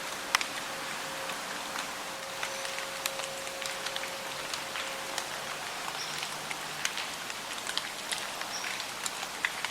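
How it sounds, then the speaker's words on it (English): Steady rain patters softly during a late-season deer hunt, with scattered drops ticking sharply against a nearby surface, no voices present. "with the rain, it's kind of weird weather to end the season"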